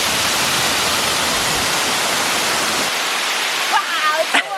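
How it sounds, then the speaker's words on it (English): A waterfall at a secret beach near Queenstown, New Zealand, roars as a steady, loud, broadband rush for about three seconds, then drops away as a few brief voices are heard at the end. "Wow, it's a waterfall"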